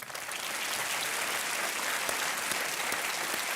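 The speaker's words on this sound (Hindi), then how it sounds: "अनिल कपूर जी को आप तालियों के साथ इनका अभिनंदन करें" A studio audience on a television quiz show applauds actor Anil Kapoor in a dense, steady wash of clapping, fairly distant and even throughout, with no voices.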